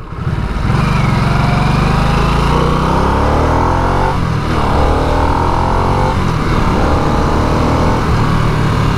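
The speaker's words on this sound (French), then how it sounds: "Vous voyez comme ça gronde quand je décélère?" A Harley-Davidson Nightster engine rumbles and growls loudly as it decelerates, with its pitch rising and falling through several deceleration swells.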